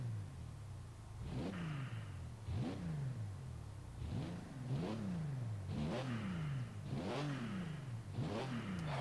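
A turbocharged car engine in the Forza Horizon 3 racing game revs repeatedly in sharp rising-and-falling bursts, about six loud, close blips in a row with a steady engine drone between them.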